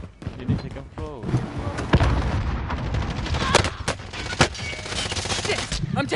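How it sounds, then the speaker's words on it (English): A Call of Duty Warzone firefight, with repeated sharp gunshots and short bursts cracking over a busy, noisy battle. Players talk throughout. "I'm taking fire!"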